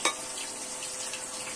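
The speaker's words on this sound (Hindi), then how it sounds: "हम प्याज को फिर से चला लेते हैं, हमारा हल्का हल्का प्याज भून चुका है" Onions being stirred as they fry in a pan give off a steady close sizzle, with a brief scrape of the spoon at the start.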